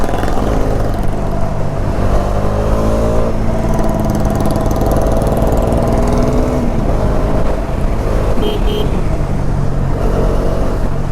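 Bajaj Dominar 400 motorcycle moving through city traffic, a steady loud engine drone with shifting pitch and surrounding vehicle noise, continuous throughout with no talk.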